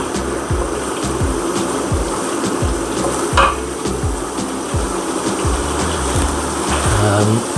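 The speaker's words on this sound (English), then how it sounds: "Right, give it a good stir." Potatoes being stirred into a lamb curry in a pan, a steady scraping and rustling of the spoon over a continuous low sizzle, close by, with no talking.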